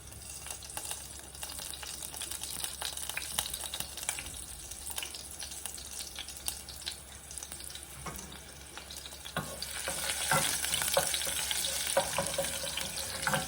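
Garlic and mustard seeds frying in hot oil for a tomato tempering give a steady, close hiss and crackle that swells louder near the end, with a few faint stirring clinks.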